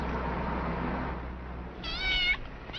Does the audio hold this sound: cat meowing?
yes